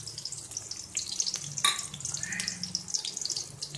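Small onions and moong dal frying in a pan for cabbage poriyal, a soft continuous sizzle with watery crackle and a brief louder clatter midway, no talk.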